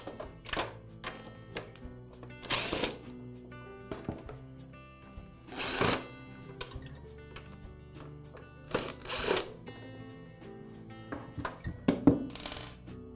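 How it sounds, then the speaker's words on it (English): Screws are backed out of a DeLonghi espresso maker's console with a power driver, giving four short loud whirring bursts separated by quieter clicks and handling knocks, heard close. "I'll remove those screws."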